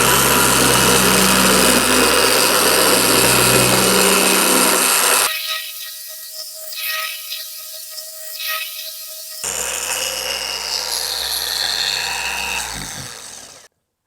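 Dual action car polisher working the right-hand side of a car panel at low speed, a steady whirring machine drone that drops out midway, leaving quiet room noise, then resumes before stopping.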